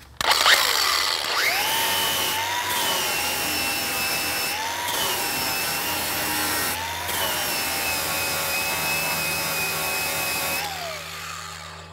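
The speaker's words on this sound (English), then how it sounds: "This time I picked up a flap disc." An angle grinder fitted with a flap disc grinds paint off steel while making a Kubota tractor loader shackle mount. A loud, close, sustained whining roar whose pitch dips and rises as the disc bites, with a few brief pauses.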